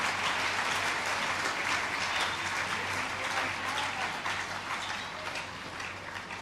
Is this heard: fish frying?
no